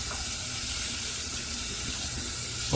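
Steady rush of water pouring from a tap while a tub is rinsed out, continuous and close, with no voices.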